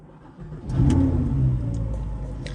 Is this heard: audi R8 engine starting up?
yes